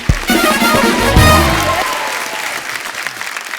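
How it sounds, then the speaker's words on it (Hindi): A studio audience on a Hindi comedy talk show breaks into loud, dense applause that swells early, then gradually thins and fades over a few seconds, with a voice briefly heard over the start. "एक बार जोरदार तालियां फरा मैम और रवीना जी के लिए"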